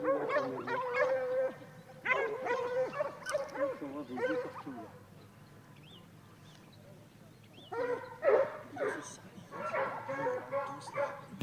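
A pack of hunting hounds bays and yelps while chasing a hare through hedges and dirt lanes, with bursts of overlapping barking separated by a quieter lull, at moderate distance.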